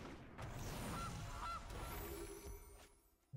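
A goose honks a few times when the Gilded Goose card is played in the Magic: The Gathering video game, the honks faint over a busy, low game background.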